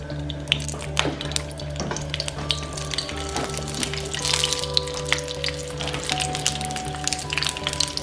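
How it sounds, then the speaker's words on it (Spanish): Onion frying in a splash of oil in a very hot skillet, a steady close crackling sizzle with scattered pops and a low hum underneath, no talk. "en un sartén bien caliente voy a poner un chorro de aceite para freír la cebolla"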